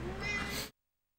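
A pet cat meows loudly and close in one sustained cry that cuts off abruptly, heard in a room during a rally racing game session.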